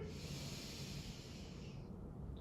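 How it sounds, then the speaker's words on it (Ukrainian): A long, deep breath drawn in slowly through the nose during a guided breathing meditation. It is close and steady, with a soft airy hiss for about two seconds before it tapers off into quiet room noise. "Робимо вдих."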